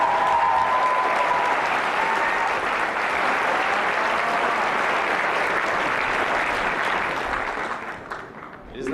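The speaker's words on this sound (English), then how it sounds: "Let's give a big round of applause." Sustained, dense applause fills a school gym at a high school senior recognition assembly, steady and moderately loud for several seconds before tapering off.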